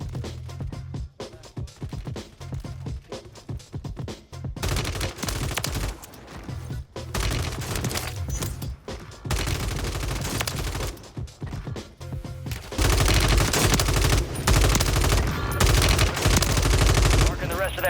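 Bursts of Ram 7 assault rifle fire in Call of Duty Warzone crackle in rapid automatic strings, loud and close, broken by brief pauses and ending in a sustained dense volley.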